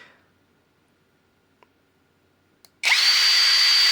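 A cordless MTDTD-156 impact driver kicks on with the trigger held fully down, a steady loud motor whine starting suddenly after near silence and a few faint clicks.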